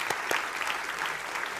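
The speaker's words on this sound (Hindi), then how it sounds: "तालियों के साथ स्वागत कीजिए" Applause from the studio audience of a televised political debate show greeting contestants, a fairly quiet, steady patter of clapping with a couple of sharper claps near the start.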